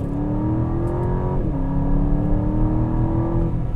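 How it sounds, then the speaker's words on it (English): A 2021 Aston Martin DBX accelerates hard on the road, its engine rising in pitch, dipping briefly at a gear change, then climbing again, loud and close as heard from the cabin. "So let's do one more acceleration before I head back to the dealership."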